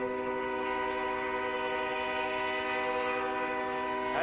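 A train horn blares steadily and loudly at a railroad crossing near the scene of a fiery tractor-trailer wreck on I-435, a sustained multi-tone chord held for several seconds with no speech.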